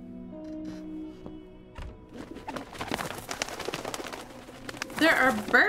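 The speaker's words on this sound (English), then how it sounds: "There are birds in here." Birds coo and flutter in a derelict building in Syberia: The World Before, with several soft calls scattered across the scene and a louder burst of chirping near the end, mixed with footsteps and ambient clatter.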